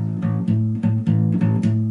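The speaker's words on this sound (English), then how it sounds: "So the 12 bar blues would now sound like this." Bass guitar plays a twelve bar blues phrase with added harmonics, a steady pulsing line of about eight plucked notes with ringing overtones, close and clear with no talking.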